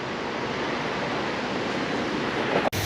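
Steady roar of ocean surf mixed with wind buffeting, a continuous wash of noise that ends abruptly.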